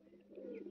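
A female pigeon gives a soft, low coo, faint and brief, with no talking.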